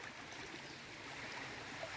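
A river flowing steadily, a soft continuous wash of moving water that stays even and fairly faint throughout, with no voices.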